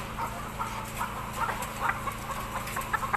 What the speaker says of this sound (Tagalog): Ayan po yung mga manok namin.